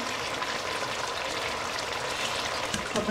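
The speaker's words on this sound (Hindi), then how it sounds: "चावल भी बिल्कुल उबल चुके हैं अब मैं इनको छान लेती हूँ" Water from boiled rice is strained off for chicken biryani, a steady close splashing hiss of pouring liquid running throughout with no talk.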